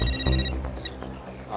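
A telephone rings with an incoming call in a Hindi comedy household scene, its repeated electronic ringtone running alone and fairly loud for about a second and a half.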